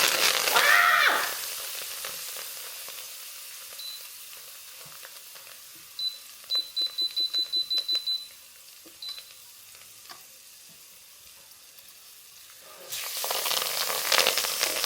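Chopped vegetables hitting a dark roux in a pot: a loud, close burst of sizzling at the start, a quiet stretch broken by a run of short electronic beeps, then another strong burst of sizzling at the end.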